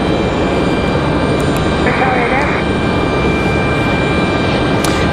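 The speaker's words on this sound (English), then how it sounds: "You guys just had Air France departure." An Air France jet departs Raleigh-Durham airport, giving a loud, continuous roar of jet engine noise that fills the whole stretch with no break.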